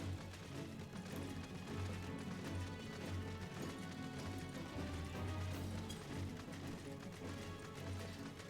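Faint hoofbeats of a horse in a video game, caught in a glitch, clip-clop in a steady repetitive rhythm under a droning game background.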